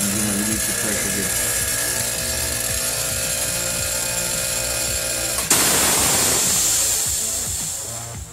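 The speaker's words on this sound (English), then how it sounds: "I'm going to go back over here and do my release the pressure here." A home-built silent air compressor runs steadily, then a solenoid pressure relief valve opens with a sudden loud burst of rushing air that keeps hissing and slowly tapers off.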